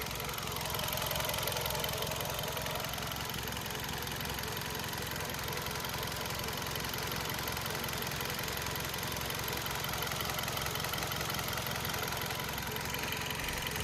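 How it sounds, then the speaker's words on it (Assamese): A Hyundai Verna SX with a 1.6 petrol engine idles steadily and close by, a continuous even mechanical hum and rumble with no talk over it. "এটো চাওক পেট্ৰল ইঞ্জিন হয়"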